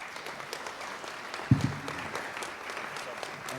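Audience applause at a Kentucky jobs and education announcement for graduating students, a steady mid-level patter of clapping across the whole span with a brief louder burst near the middle.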